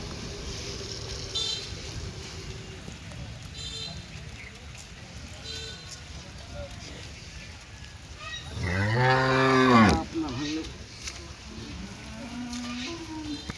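A Holstein Friesian cow lets out one long, loud moo partway through, with quieter farm background and faint talking around it.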